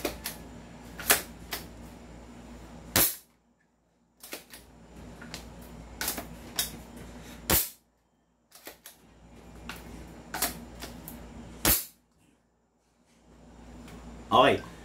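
Airsoft sniper rifle firing several sharp, loud cracking shots at irregular intervals, each followed by mechanical clicking and rustling, with quiet pauses between shots.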